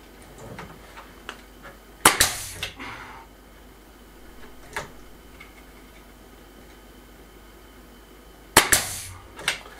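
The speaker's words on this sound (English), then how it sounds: "Fire a nail straight in here." Two sharp, loud cracks about six seconds apart from a nail gun driving nails into a cupboard during indoor renovation, with quieter ticks and knocks between them.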